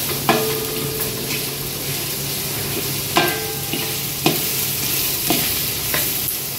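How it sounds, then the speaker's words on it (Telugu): Onions fry in a hot pan with a steady, close sizzle, and a few sharp scrapes and clacks of a stirring utensil cut through at irregular intervals. No one speaks. "ఉల్లిపాయలు వేగుతున్నప్పుడు"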